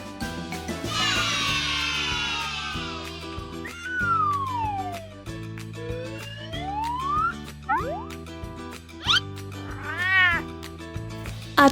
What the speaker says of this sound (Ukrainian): Це кіт.